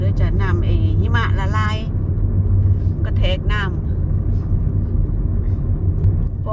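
A vehicle engine rumbles low and steady throughout, heard while riding through the countryside outside Tromsø, northern Norway, while a person speaks over it in bursts.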